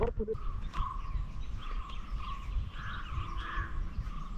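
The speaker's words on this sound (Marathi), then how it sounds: "पक्ष्यांचा किलबिलाट आपल्याला ऐकायला येतोय" Birds chirp and twitter in scattered, fairly faint calls over a steady hiss of insects and breeze in a morning forest below Harishchandragad fort, with no close voices.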